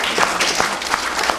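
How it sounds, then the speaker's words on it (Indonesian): Applause from the audience at an event at Dewan Kesenian Malang, a steady dense patter of many hands at close range, with no talk over it. "Tepuk tangan."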